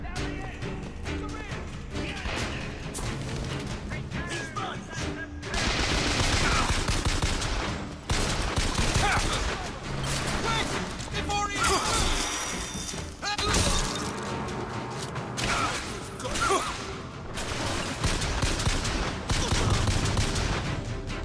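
Dense, loud gunfire in the video game Bioshock Infinite with repeated bursts and crashing impacts, continuous throughout, over a busy layered game soundtrack.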